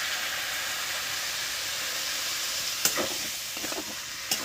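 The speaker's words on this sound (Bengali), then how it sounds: "এবার এর মধ্যে অল্প একটু আমি এই জল দিয়ে দিচ্ছি" Water splashes into a pan of potato and cauliflower samosa filling frying on the stove, setting off a steady, loud sizzle and hiss with a few sharp clinks near the end; no voices.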